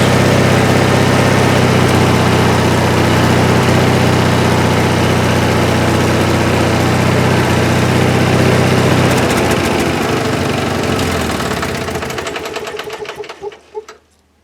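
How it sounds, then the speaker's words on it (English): The engine of a Mighty Mite band saw mill runs its hydraulics to lift the mill. It holds a loud, steady drone for about ten seconds, then slows, sputters and dies away at the end. "I'm going to go ahead and see if I can't use the hydraulics on the machine to pick that machine up a little bit"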